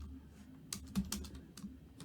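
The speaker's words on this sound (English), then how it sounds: "I'm just going to type these out as responses." Fingers type on a computer keyboard at close range, tapping out a quick, irregular run of soft key clicks over a low background hum.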